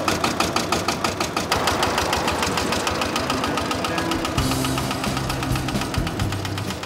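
A couple's small private vehicle runs with a loud, close, rhythmic knocking chug. The beat is steady throughout and the tone shifts midway, with no speech over it.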